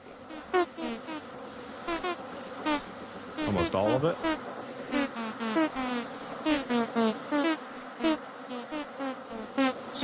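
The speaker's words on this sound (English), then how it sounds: "So many bees! So many bees! Get me away from all the bees." Swarm of bees in the video game Vintage Story, a continuous close buzzing with overlapping wing drones rising and falling as insects pass, while a person speaks briefly over it.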